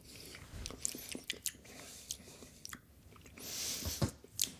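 Close-up chewing and crunching of food dressed with Blazin' Asian hot sauce, quiet irregular wet bites and mouth sounds with no talking.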